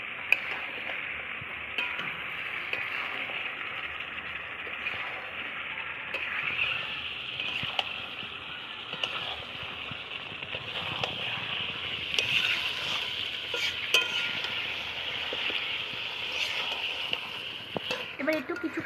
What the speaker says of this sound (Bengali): দিয়ে এটাকে আমি একটু ভালো করে কষাবো